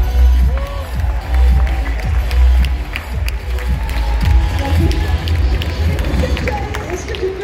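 Audience applause and cheering for a jury favourite winner at the Paris Games Week 2023 cosplay championship: a dense crowd roars and claps steadily throughout, with a presenter's amplified voice speaking over it.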